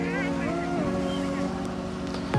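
A motorboat carries passengers across the river at Triveni Sangam, the confluence of the Ganga and Yamuna in Prayagraj. Its engine drones steadily throughout while a person talks over it.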